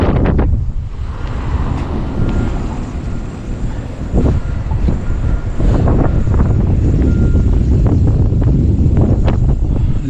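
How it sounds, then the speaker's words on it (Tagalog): Strong wind roars through a Canadian winter storm around a snow-buried gas station, a steady low buffeting rush with gusts swelling louder through the second half and no voices. "Lakas pati ng hangin"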